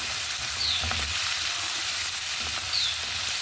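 Tomatoes go into a hot frying pan for a home-cooked dish, giving a steady, close sizzle and frying hiss with light stirring scrapes, and no talk.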